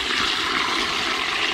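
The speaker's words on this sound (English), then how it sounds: "Pour that hot water right there." Hot water poured steadily into a cooler holding steaks and rosemary, a continuous close rushing splash without pause.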